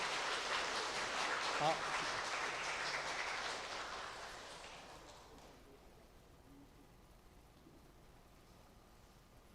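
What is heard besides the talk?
audience applause welcoming the speaker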